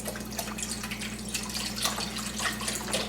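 Liquid streams steadily from a bottle into a pot in a home kitchen, a continuous close splashing trickle with small bubbly bursts.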